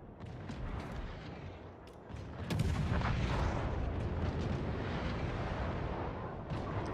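Heavy ship cannon fire in a naval video game, deep booming blasts rolling into sustained thunderous rumble as a battleship is sunk, loud and continuous with no talk.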